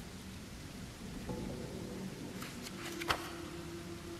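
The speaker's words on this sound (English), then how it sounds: "I love the rain, dude." Soft, steady rain hiss from the video game Stay Quiet, faint and even throughout, with a brief sharp tap and a low hum appearing partway through.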